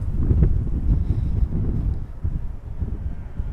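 Strong wind buffeting the microphone at Amsterdam Schiphol Airport, a loud, continuous low rumble that surges and eases without pause.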